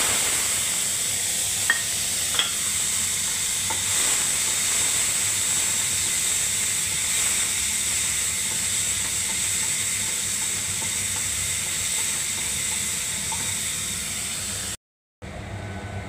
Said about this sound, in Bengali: টমেটোটা একটু কষতে দিলাম বন্ধুরা।